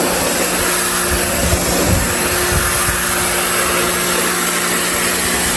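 Compressed air blasting dirt out of a truck radiator, a steady loud hiss that runs continuously and close without a break, with no talking over it.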